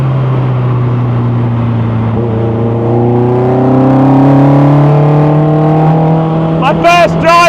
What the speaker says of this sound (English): My first drive in a Westfield.